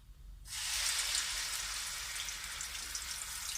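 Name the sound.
ground onion paste frying in hot oil in a wok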